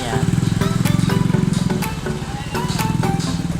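Motorcycle riding just ahead through a mall parking area, a close, steady engine drone with a rapid pulsing beat that dips briefly midway and then resumes.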